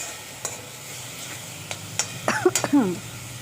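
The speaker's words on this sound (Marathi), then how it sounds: "आता ह्याला मस्त असं फ्राय करून घेऊया" Momo stuffing with turmeric, salt and chili being fried and stirred in a pan, with soft sizzling and a few scraping strokes, followed by a short burst of coughing and a voice near the end.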